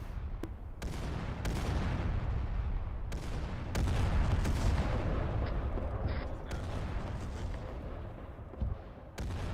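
An artillery barrage in the video game Arma 3, a rolling series of heavy booms and blasts, some sharp and some rumbling, overlapping into a dense, loud, sustained bombardment.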